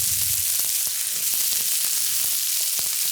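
Diced red bell pepper and minced garlic fry in a pan, a close steady sizzle with faint crackles and a few soft utensil taps.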